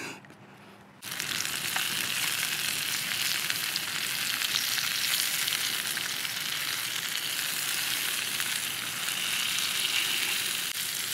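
Chicken stir-fry sizzles in a pan over an X-Boil alcohol stove at a tent-and-tarp campsite, starting abruptly after a short quiet moment and then holding as a loud, steady, close hiss for the rest of the clip.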